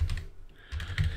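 Several quick keystrokes on a computer keyboard: a short burst, a brief pause, then another cluster of clicks, close and clear with no talk.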